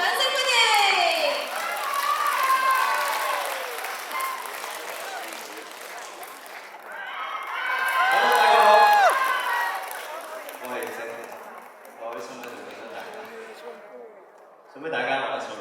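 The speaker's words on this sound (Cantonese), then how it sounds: "掌聲歡迎" Crowd applause and cheering greet a singer as he takes the stage as closing act at a live concert, a loud swell that peaks mid-clip with some shouting voices, then fades under an announcer's talk.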